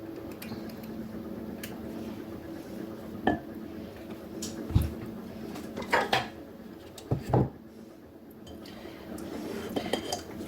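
Metal muffin tins clink and knock in a few scattered bursts over a quiet kitchen background, with short gaps between the handling sounds.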